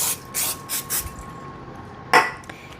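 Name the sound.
cooking spray on cookie sheet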